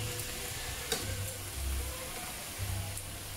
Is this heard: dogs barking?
no